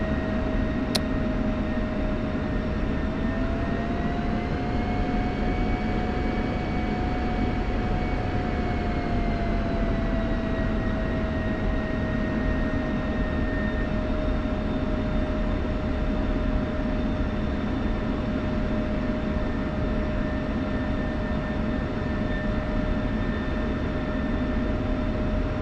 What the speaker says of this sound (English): Get it right up to 40 and then idle it. You don't want to exceed 40 knots in the Viper while taxiing.